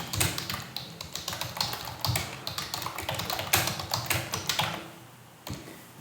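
Rapid clicking on a computer keyboard, close and irregular, bursts of keystrokes with brief pauses, heard alone without talk.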